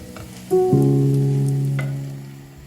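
Boiling vegetable broth hits a hot pan of risotto ingredients with a sudden loud hiss, then a steady sizzle that slowly fades over a couple of seconds.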